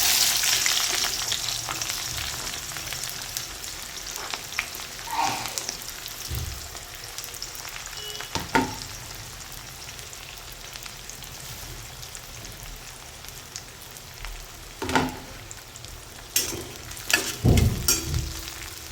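Onion frying in a small amount of oil with grated coconut for homemade masala makes a steady close crackle and sizzle, broken by occasional louder stirring scrapes and spatters.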